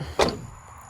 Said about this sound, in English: I got to unlock the doors